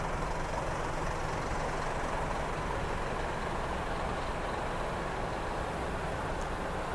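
A large truck idles in a Japanese parking area, a steady low engine rumble mixed with broad traffic noise, continuous and fairly loud without any speech.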